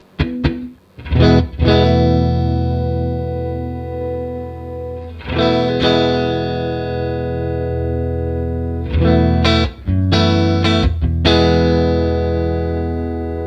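A heavily distorted electric guitar through a Maranello amp with bass EQ at maximum plays sustained, thick low-heavy chords and short riffs, loud and close, with brief gaps between phrases.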